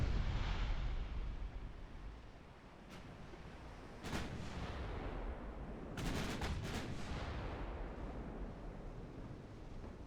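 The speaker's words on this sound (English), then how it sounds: "I'm gonna let them use their guns. Because they've actually got decent guns." Warship guns fire in a naval battle game set in a 1931 campaign, with deep booming salvos rolling over a constant low rumble and several sharp blasts clustered near the end.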